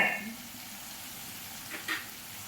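Spice masala for a curry fries in a pan, giving a close, steady sizzle with a few brief louder crackles and a faint stir near the end.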